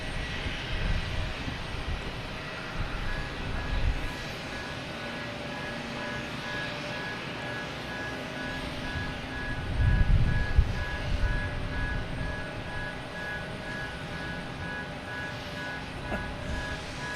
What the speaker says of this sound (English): next to take off, we have American Airlines heading to Philadelphia